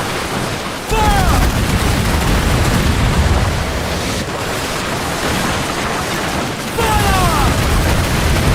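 Ship cannons in the pirate video game Assassin's Creed Black Flag boom amid a constant roar of sea and battle noise, a dense, loud wash of blasts lasting throughout, with whistling streaks of incoming fire twice.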